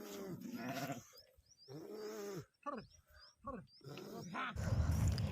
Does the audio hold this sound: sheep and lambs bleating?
yes